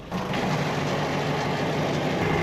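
A steady, low boat engine hum runs throughout at a constant idle-like speed, just off neutral, with no voices over it.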